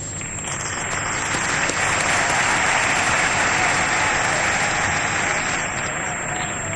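An audience acclaims the standing representative of the President of the Republic at a formal ceremony with a sustained, dense roll of clapping from many hands that stays loud and even throughout.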